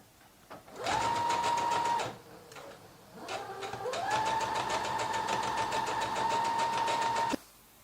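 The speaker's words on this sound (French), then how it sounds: "il va falloir venir faire ma surpiqûre sur l'endroit de mon tissu" A sewing machine topstitching the fly of a pair of jeans runs in two steady mechanical bursts, a short one then a longer one, each ending with a stop and a brief pause between them.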